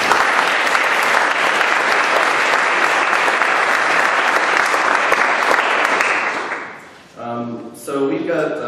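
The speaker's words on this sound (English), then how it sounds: "I just want to give them a round of applause" Audience applause at a humanities symposium, a dense, steady wash of many hands clapping for about six seconds before fading out, after which a voice begins speaking.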